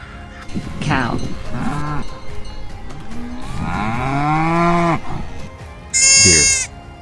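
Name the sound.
cow mooing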